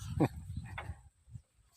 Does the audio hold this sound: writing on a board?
no